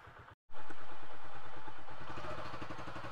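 A Bajaj V15 motorcycle engine fires up after a brief silence and settles into a loud, steady running rhythm close by, with a pulsing exhaust beat that slowly eases in volume.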